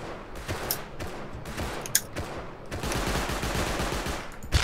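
Rapid gunfire bursts from the survival video game Rust during a counter-raid firefight, with repeated sharp shots cracking over a dense, continuous din of battle.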